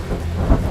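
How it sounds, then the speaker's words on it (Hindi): Heavy rain with thunder, a dense low rumble and steady wash of rainfall filling the whole short moment without any voices. "बहुत बारिश हो रही है"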